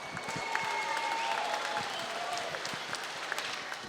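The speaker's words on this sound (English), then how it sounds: "round of applause for both fighters this evening" Applause from a fight-night crowd for both fighters at the close of a three-round Phoenix FN27 bout, a steady wash of clapping heard at some distance, with a faint voice underneath.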